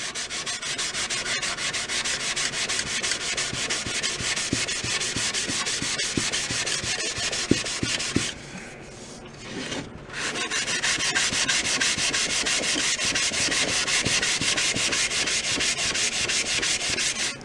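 Sandpaper rubs steadily against the bearing edges of a 1936–38 Slingerland Artist model wooden snare drum shell, a continuous close scratchy sanding with a brief pause partway through.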